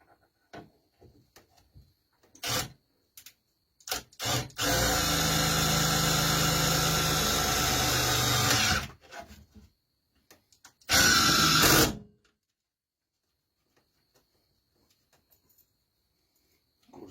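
A hand router, used for the first time, whines at a steady high-pitched roar for about five seconds, then runs again in a shorter one-second burst. Scattered clicks and handling knocks come before and after, with near-silence between.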